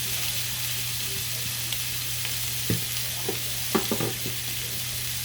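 Big steaks searing in a smoking-hot pan, a constant broad sizzle with a low steady hum beneath and a few brief knocks and scrapes near the end, close and even.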